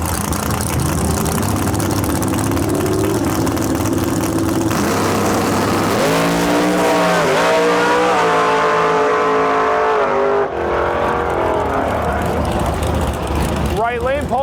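Drag racing cars roar close by at the strip, engines rumbling and then revving hard as they accelerate away in a long rising pull, with an announcer talking throughout.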